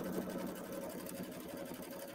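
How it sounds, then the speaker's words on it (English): A sewing machine runs steadily, stitching a quarter inch seam along quilt pieces with a quarter inch foot, a continuous mid-pitched motor whir with rapid needle chatter, fairly close and alone. "we will just sew that quarter inch seam all the way down"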